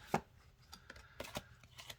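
Aboriginal Spirit Oracle cards are riffled and shuffled by hand, a burst of papery flicks followed by several lighter slaps and snaps, close and quiet with no talking.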